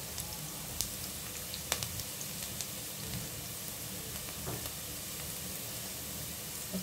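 A pinch of asafoetida sizzles in hot tempering oil, producing a soft, steady fizz dotted with scattered sharp crackles and pops.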